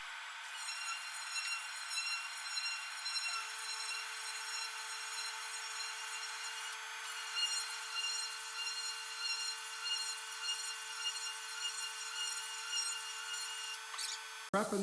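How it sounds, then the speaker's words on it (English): Continuous scratchy scuff sanding of wooden corners, steady and close, with a faint background hum and a brief knock at the end. "So first step is scuff sanding them."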